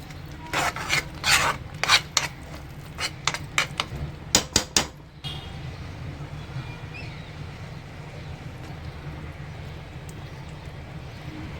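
Tamarind puliogare masala stirred with oil in a pan over low heat, a series of close, rasping scrapes for about five seconds, then a steady quiet sizzle with no talk.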